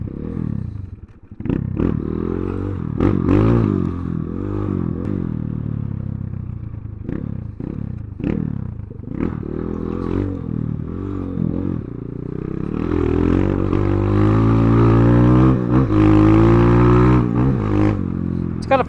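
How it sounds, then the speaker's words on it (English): A 2021 Kayo K2 230 air-cooled four-stroke motorcycle engine runs and revs unevenly while riding, with throttle blips and clattering mechanical noise, growing louder and fuller in the second half. "It's an air-cooled, four-stroke, reliable engine."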